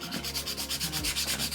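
Nail file, 100 and 80 grit, sanding a polygel nail: a close, steady, raspy rubbing in quick back-and-forth strokes, alone without talk.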